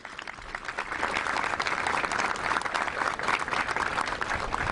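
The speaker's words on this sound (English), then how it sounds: "Let's give them a round of applause." An audience at a clean energy bill signing applauds steadily, a dense, even wash of many clapping hands heard from the middle distance that lasts throughout, with no talk over it.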